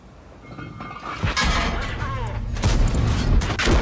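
A tank in a video game battle takes enemy fire: sharp gunshot cracks and heavy impact booms hit in quick bursts, growing louder and denser over a few seconds, with a voice speaking underneath.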